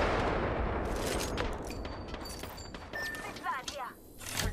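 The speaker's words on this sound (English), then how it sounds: "I am taking fire." Gunfire in a sci-fi video game rattles in rapid bursts of shots, moderately loud with sharp cracks and some electronic tones, fading toward the end.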